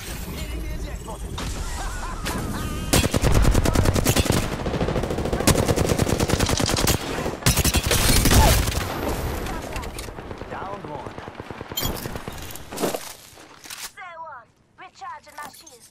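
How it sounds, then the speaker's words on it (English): Heavy automatic gunfire in the shooter Apex Legends: long, dense, close rattling bursts and sharp impacts, easing into scattered shots and lighter effects near the end, with some voices mixed in. "Getting shot at."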